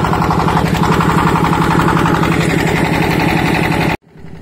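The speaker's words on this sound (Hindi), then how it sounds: "इंजन की आवाज़ बड़ी इतने" A farm engine runs loudly nearby with a fast, steady thumping chug, likely a water pump engine, then cuts off abruptly near the end, leaving quiet.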